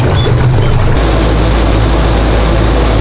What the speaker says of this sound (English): a boat is actually coming in